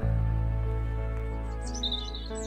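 Bee hummingbird chirps, high and brief, appear in a quick cluster near the end above a loud, steady low hum that runs throughout.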